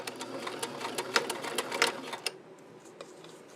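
An invisible zipper being back-tacked on a sewing machine, a fast close mechanical stitching rattle in short bursts that stops abruptly, leaving a quiet hum.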